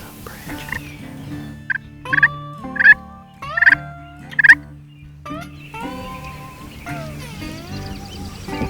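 Wild turkey gobblers in snowy Wisconsin woods give several loud, rattling gobbles in quick succession, clear and fairly close against a quiet outdoor background.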